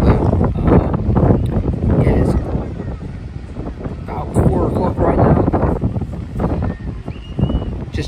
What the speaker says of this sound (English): like the wind's kind of strong